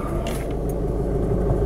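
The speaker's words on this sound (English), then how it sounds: "If I start the car properly, clutch in." A car engine runs with a close, steady low rumble and slight revving, continuous throughout the short stretch.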